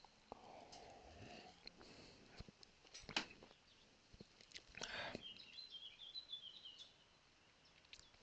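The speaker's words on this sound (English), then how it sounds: "Can you hear the birds tweeting?" Birds tweet faintly outdoors, with scattered high chirps set against quiet background noise and a few soft nearby rustles.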